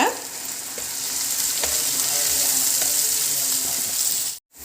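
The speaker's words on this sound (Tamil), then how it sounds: "இப்போ வந்து தக்காளி தவிர எல்லாத்தையும் போட்டு வதக்கிக்கலாம்" Onion and green chilies sauté in hot oil with salt, a steady close sizzle broken by scraping stir strokes, then a sudden brief silence near the end.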